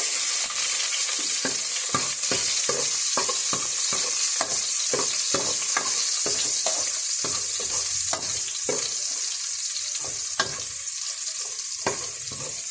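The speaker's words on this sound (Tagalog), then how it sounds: "mainit na po ang ating mantika. Lagay na po natin ang ating bawang" Garlic frying in hot oil makes a bright, constant sizzle close by, punctuated by regular scraping and tapping strokes of a utensil stirring the pan.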